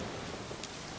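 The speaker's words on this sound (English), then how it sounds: "we are in the middle of a windy forest, in the middle of rain" Steady rain in a windy forest in the video game The Witcher 3 hisses softly across the whole moment, a dense, even patter with no voices.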